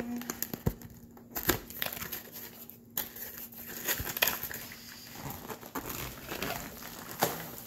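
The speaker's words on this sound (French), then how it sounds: "Je vais ouvrir la boîte." A Diamond Art Club diamond painting kit box for the Titania and Oberon design, with a 70 by 98 canvas, is opened with close crinkling and rustling of cardboard and packaging, plus scattered sharp crackles and tearing sounds.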